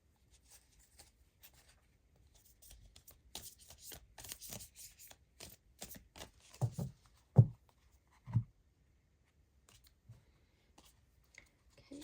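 Tarot cards are shuffled and handled close by, soft papery riffles and rustles clustered in the middle, ending in a few dull taps as cards are set down, with quiet gaps around them.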